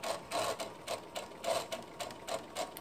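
A sewing machine stitches a skirt seam at a 5/8 seam allowance in short, rapid bursts with quick pauses between them, close and moderately quiet.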